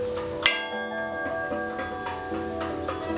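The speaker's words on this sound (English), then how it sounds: "there's a prayer wheel on the property, which is a Tibetan wheel that you turn and it rings a bell." A bell sounded by turning a Tibetan prayer wheel on a garden property in Oregon gives one clear metallic strike that rings on and slowly decays amid outdoor ambience and faint later taps.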